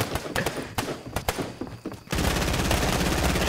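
Heavy sniper gunfire in a multiplayer video game: a run of sharp, punchy shots and thuds, then a sudden loud, dense, continuous barrage of blasts lasting the final second and a half.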